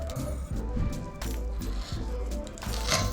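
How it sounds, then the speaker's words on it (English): Hose cutters snip through nylon and wire-braided fuel hose wrapped in tape, giving a few sharp crunching cuts close up over a steady low background hum. "So we're using a pair of hose cutters, and we use some tape to kind of minimize the amount of fray"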